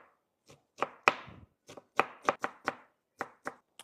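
Red capsicum chopped with a knife on a cutting board, a dozen or so sharp, close knocks in an uneven rhythm, some in quick pairs, with no voices.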